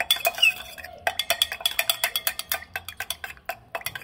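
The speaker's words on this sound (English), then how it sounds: "we're gonna go ahead and just give it a little stir to make sure that syrup kind of dissolves into it" Spoon stirring syrup into liquor in a glass while mixing a cocktail, producing a rapid series of bright, close clinks and taps against the glass, fairly even in rhythm with brief gaps.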